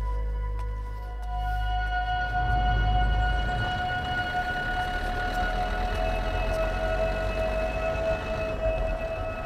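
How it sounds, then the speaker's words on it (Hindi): An ambulance siren sounds in a hospital setting, a steady wailing tone held over a dense low rumble, moderately loud and continuous throughout without any talking. "एम्बुलेंस बस आती ही होगी।"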